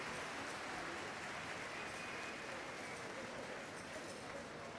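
Soft, continuous applause from a large graduation-ceremony crowd honouring baccalaureate graduates of University College and Arts and Sciences, faint and distant like a wash of rain, steady throughout without speech.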